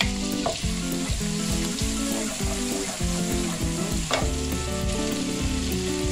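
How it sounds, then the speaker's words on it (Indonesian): Steady, loud sizzling of ginger and garlic frying in hot butter in a pan, with occasional stirring clatter throughout, no voices. "Kemudian kita masukkan jahe dan bawang putih."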